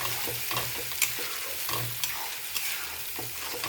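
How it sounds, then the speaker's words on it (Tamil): Onion and ground mushroom masala paste cook down in oil, a moderate, continuous frying hiss broken by repeated scraping and tapping of a spatula against the pan, without talk. "இது எண்ணெய் விடுற அளவுக்கு நம்ம நல்லா வதக்கிக்கணும்"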